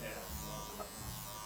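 Electric trimmer cutting a silver beard, a steady close buzz running throughout, with voices chatting faintly underneath.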